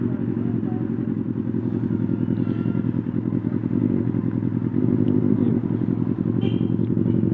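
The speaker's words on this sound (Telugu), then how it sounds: "ఒకసారి సౌండ్ ఏనండి, కోల్డ్ స్టార్ట్ సౌండ్ ఇది." A Benelli 600i motorcycle fitted with an IXIL 55 aftermarket exhaust idles just after a cold start, giving a steady, close, deep rumbling throb that holds evenly for several seconds.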